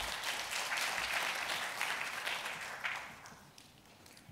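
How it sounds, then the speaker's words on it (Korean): A conference audience at a forum session applauds to welcome a speaker, a full, sustained wash of many clapping hands that gradually thins toward the end. "큰 박수로 맞이해 주십시오"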